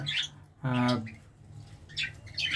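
English budgerigars in an aviary give short chirps and warbling calls, with soft background noise between the calls.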